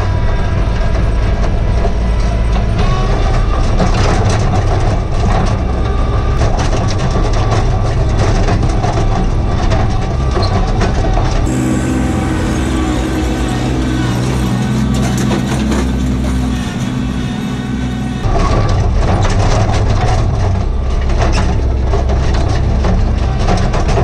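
A tractor drives along forest trails with a big tool rack on its back, a loud continuous engine drone mixed with rattling and clanking of the load over rough ground, steady throughout with no talk.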